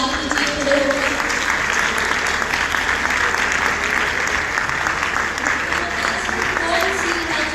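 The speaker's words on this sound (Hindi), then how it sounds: "आप सब भरपूर तालियों में अख्तर उस्मान साहब का इस्तकबाल कीजिए" A crowd at a university bait bazi grand final in Lahore, a verse-trading contest, welcomes a guest with sustained, heavy applause, dense and even throughout, with some crowd voices mixed into the clapping.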